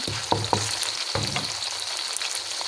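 Chillies sizzle in a hot pan for egg kothu, a constant crackling fry broken by a few sharp clatters of stirring early on.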